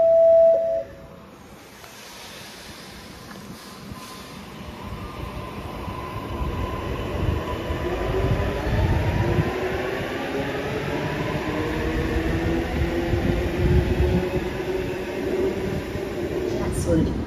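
A Sydney Metro train pulls out of Chatswood station during testing: a brief electronic tone, then a rising electric motor whine and wheel rumble build steadily over about fifteen seconds, close by and loud.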